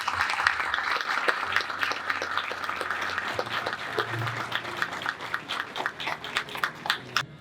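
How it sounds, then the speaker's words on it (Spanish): Applause at a national education congress, a large audience clapping steadily throughout, with a little low murmur underneath and the clapping thinning slightly toward the end. "El aplauso es gigante"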